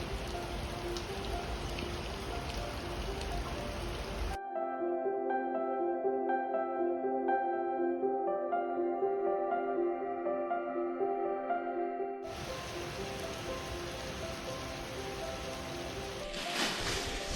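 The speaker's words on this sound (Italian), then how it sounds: "Il giorno della partenza piove." Steady rain falls on departure day, a continuous close hiss of drops. A tonal, humming passage interrupts the middle, then the rain noise returns until the end.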